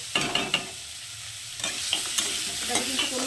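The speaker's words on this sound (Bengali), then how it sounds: "গুড়গুলোকেও দিয়ে দিচ্ছি এটার মধ্যে" Hog plum pickle fries with a steady sizzle as sugarcane jaggery is added, while a utensil stirs and scrapes the pan in irregular clanks and knocks.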